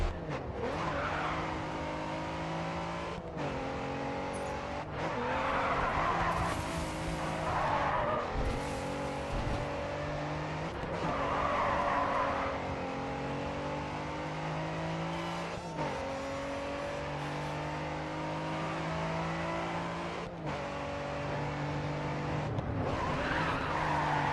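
A race car in the video game Grid 2 drives laps with a loud, continuous engine drone that rises and falls through gear changes, plus repeated tire squeals through the corners and no talking.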